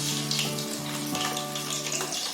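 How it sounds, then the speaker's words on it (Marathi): Cauliflower florets fry in hot oil in a kadhai, giving a dense, steady sizzling hiss with faint bubbling tones, loud and close with no voices. "एकत्र टाकून सगळे तळून घेते"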